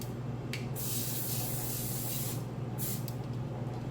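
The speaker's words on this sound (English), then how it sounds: "When I spray, I'm not spraying down into it. I am spraying straight across." Cooking spray misted straight across over a kitchen sink, two short pressurized hissing bursts with a pause between them, close and clear over a low steady hum.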